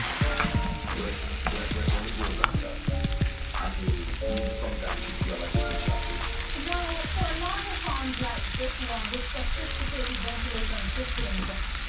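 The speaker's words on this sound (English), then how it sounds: "I fry them up" Ackee and chicken with thyme frying in a pan, a steady close sizzle with spatters and stirring, under faint background voices.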